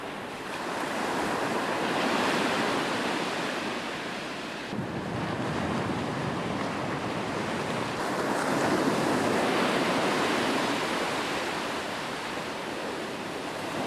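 Surf rolls onto a windy, cold shore beside a sea pool, steady broadband wash with swelling waves around the middle and end, wind buffeting the microphone throughout, no voices.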